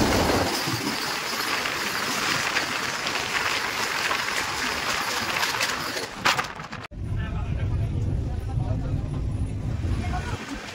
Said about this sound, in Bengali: আমাদের ট্রেন এখন ঢুকছে এনজিপি জাংশন স্টেশন